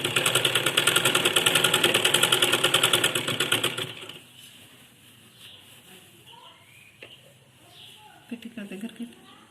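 A sewing machine stitches a keyhole neckline, running loud and steady for about four seconds before stopping, followed by quieter handling noises and soft talk.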